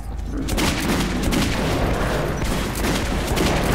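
Rapid gunfire from the video game Metro blasts continuously for several seconds, dense and loud with overlapping shots and booms and no clear gaps.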